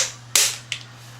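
A single sharp crack from an AR-7 rifle fired outdoors, close and loud, followed by a fainter metallic clack a moment later, with no voices.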